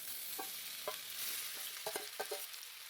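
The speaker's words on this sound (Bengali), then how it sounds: "মেখে নেওয়া ব্রোকলিগুলোকে এবার দিয়ে দিলাম।" Battered broccoli lowered into hot oil in a kadai sets off a quiet, continuous frying hiss, broken by a few sharp clicks and taps as pieces go in.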